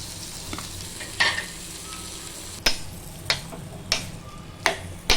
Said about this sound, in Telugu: చిన్న పెండల ముక్కలు వేసుకుందాము